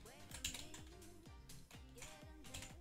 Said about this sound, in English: Then we're obviously going to type